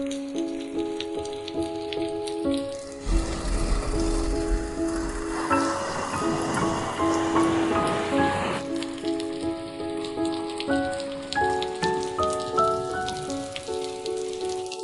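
Steady rain falls throughout, a dense hiss of drops hitting a surface with a heavier burst in the middle, while soft music plays underneath.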